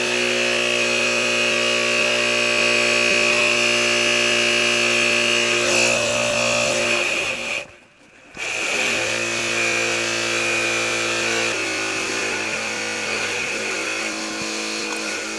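HEUUV 6000A portable air pump running to inflate a car tire, a loud steady mechanical buzz and drone that briefly cuts out near the middle, then resumes and continues evenly, close by.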